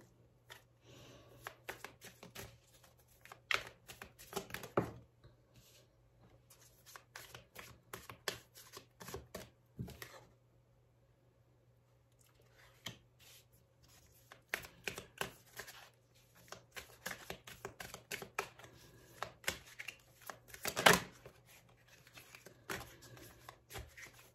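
Tarot cards are shuffled for a reading in quick, crisp bursts of riffling and slapping, close and fairly quiet, with a pause of near silence partway through before the shuffling resumes.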